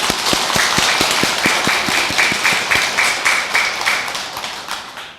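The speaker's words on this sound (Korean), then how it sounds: "우리 상노선 스님의 감사하는 마음에서 박수 한번 보내드릴까요?" Temple congregation at a Buddhist dharma talk applauding for a monk, a burst of dense clapping with sharp, rhythmic unison claps standing out before it thins and fades.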